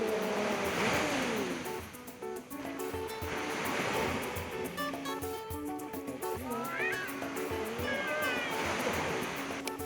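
Ocean waves wash onto the shore at a beach in Mati City, Davao Oriental, as skimboarders ride them. The rushing surf roars continuously under background music and a few faint cat-like meows.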